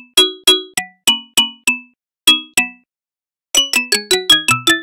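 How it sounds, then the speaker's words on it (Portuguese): Mallets strike the bars of a xylophone in a bright, ringing run of notes: a spaced group of about eight hits, a short pause, two more, a silence, then a quicker flurry of seven or eight notes close up, each decaying quickly. "Vejam, esse é o xilofone."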